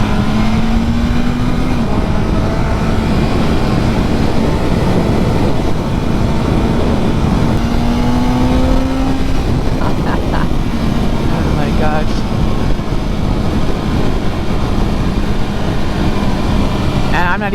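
A BMW M1000R motorcycle fitted with a new exhaust accelerates, its engine note sweeping upward in steady rising pulls over constant wind roar, loud and close throughout.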